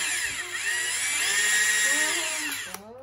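Hilti 36V cordless drill spinning in reverse: a steady, close, high-pitched motor whine lasting a few seconds, with a brief speed shift near the end and no talking.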